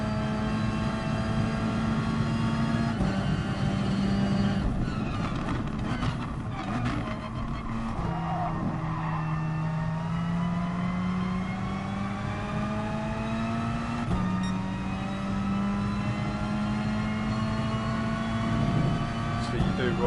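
A race car engine in Gran Turismo Sport holds a steady, high-pitched whine that rises and falls with gear changes and revs, with someone talking over it.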